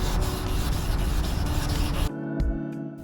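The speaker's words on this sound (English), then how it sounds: "We want to wet sand this." Steady, gritty rubbing of wet sanding a car headlight, first a continuous scrubbing, then a few separate back-and-forth strokes, close up with no voices.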